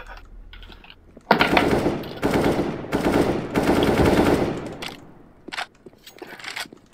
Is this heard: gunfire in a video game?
yes